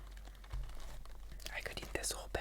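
Miss Vicky's spicy dill pickle chips being bitten and chewed up close, a run of crisp crackly crunches that grows busier after a soft quiet start, with faint whispering.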